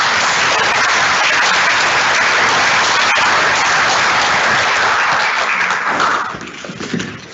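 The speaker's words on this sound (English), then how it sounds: "Another round of applause for all those winners." A crowd claps steadily for award winners at an organization's town hall, a dense, loud wash of applause that holds for about six seconds before tapering off at the end.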